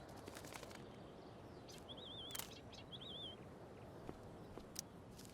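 Chirps from a bird on a school campus in Life is Strange: Before the Storm, two short warbling calls rising clearly above steady outdoor ambience, with soft footsteps and small knocks nearby.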